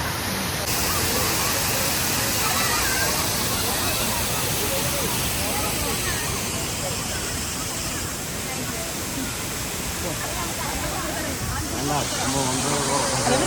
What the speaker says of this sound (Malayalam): നോക്ക് വെള്ളച്ചാട്ടം നോക്ക്